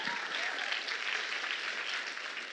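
Audience applause at a keynote speech on leadership, a dense, steady wash of clapping from a large crowd filling the hall, loud and sustained throughout with no talking over it.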